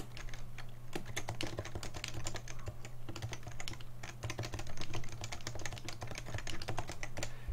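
Brisk, continuous typing on a Leopold FC660C compact keyboard fitted with default keys: dense, close clatter of individual keystrokes at a quick, uneven rhythm, with no voices.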